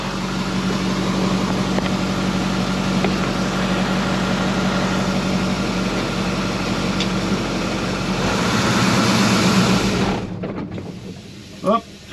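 Engine of a 1981 International Harvester snow plow truck driving, a steady loud low rumble with road noise that swells near the end before cutting off abruptly, followed by a few brief knocks.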